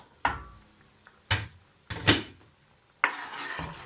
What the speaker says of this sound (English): All the carrots they go in to start cooking nice and slowly